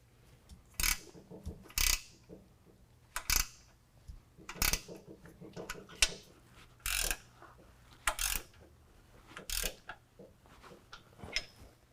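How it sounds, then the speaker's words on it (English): A ratchet wrench clicks in short bursts while 9/16 nuts are tightened on a Superlift 2.5-inch lift kit for a 2018 Jeep JL 2-door, with several separate clicking runs close by and brief metallic knocks between them. "we're going to tighten both of these down with a 9/16 on the top and the bottom"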